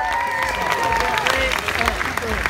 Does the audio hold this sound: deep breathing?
no